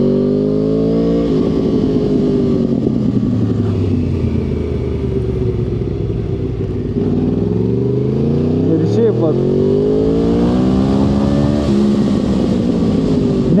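Go-kart engine on the SpeedWay kart track in Elektrėnai, loud and close, droning and rising and falling in pitch as the kart eases through a corner and accelerates again, with someone talking over it.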